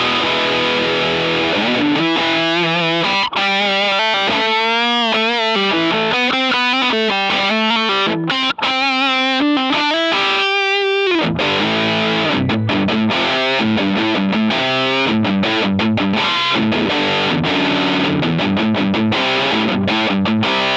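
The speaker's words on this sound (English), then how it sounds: "this is sort of the distortion sound of my childhood" An electric guitar through a distortion pedal plays loud, sustained riffs and chords, thick and saturated throughout, with no talking.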